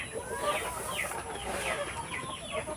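Free-range chickens cluck in overlapping, busy calls, nearby and moderately loud, over a light background hiss.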